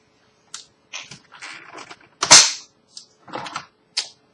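A motorized toy blaster, modified and run on a powerful LiPo battery, fires in a rapid burst of sharp clicking pops, with several short bursts and one louder, harsher crack in the middle.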